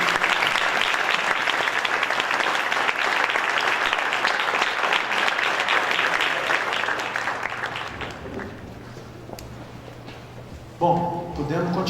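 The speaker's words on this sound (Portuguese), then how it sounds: "Vamos aplaudir o Bob que ele está indo." An audience at a worship gathering applauds loudly and steadily for about eight seconds before the clapping fades, with a voice speaking briefly near the end.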